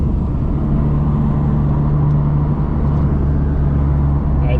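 A 9th-generation Honda Civic Si with a Fullrace downpipe and exhaust cruises in fifth gear with all windows down, its engine and exhaust making a steady, loud, low drone from inside the cabin.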